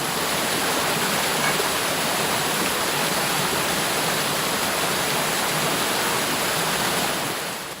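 Flood water rushes through the Wildest Dreams passage of Ogof Marros cave, a loud, steady, broadband roar of churning water with no pauses, no other sounds and no voices.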